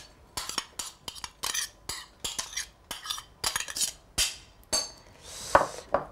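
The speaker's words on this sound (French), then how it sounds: "Donc nous versons le boulgour dans un saladier." Dry bulgur grains rattle and clink into a salad bowl in a run of short, sharp scraping pours, each burst close and crisp, with no voices.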